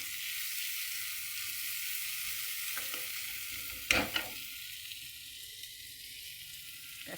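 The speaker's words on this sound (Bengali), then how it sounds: "পেঁয়াজ দিয়ে দিলাম, পেঁয়াজটা একটুখানি নেড়ে নেবো" Onion sizzles steadily in a hot pan at low volume, with a few louder scraping strokes of a spoon stirring it around the middle, then a quieter continued fry.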